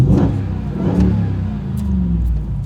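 A RAM 1500 TRX pickup truck revs hard in neutral through an MBRP 3-inch cat-back dual rear exit exhaust, several sharp throttle blips rising and falling in a deep, loud rumble, heard up close with no talking.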